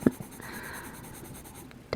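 A pencil scratches across paper in close, quiet strokes, a soft continuous scraping with a couple of sharper taps at the start and end.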